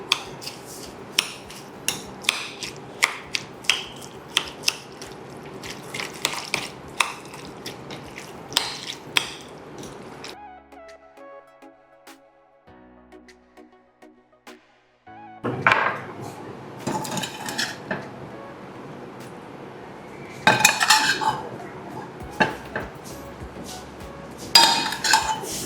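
Paneer, soya chunks, coriander, green chilli and salt tossed together in a bowl for a spicy Nepali salad, giving repeated clinks and scrapes of a spoon against the dish, loud in bursts with a quieter pause midway.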